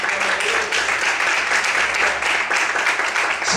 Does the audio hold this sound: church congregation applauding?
yes